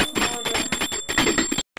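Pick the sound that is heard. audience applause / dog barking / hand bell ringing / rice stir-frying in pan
hand bell ringing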